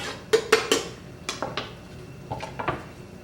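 A spoon scrapes and clinks against a pot while herbs are stirred into chicken pot pie gravy, giving a quick series of sharp metallic taps followed by softer scattered clinks.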